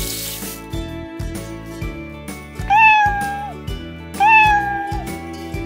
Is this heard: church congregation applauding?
no